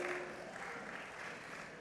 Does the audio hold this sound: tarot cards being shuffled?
no